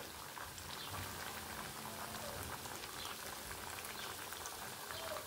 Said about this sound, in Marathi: आता मी ह्या सगळ्या वड्या तळून तुम्हाला दाखवते।